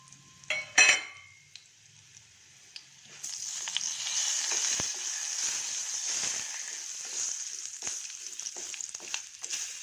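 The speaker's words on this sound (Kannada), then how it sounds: "ಇದೆಲ್ಲ ಸ್ವಲ್ಪ ಫ್ರೈ ಆಗಲಿ" Whole spices such as bay leaf, black cardamom and cinnamon sizzle in hot oil in a pan for a masala rice dish, starting with a few clatters of utensils before a steady, close frying hiss takes over.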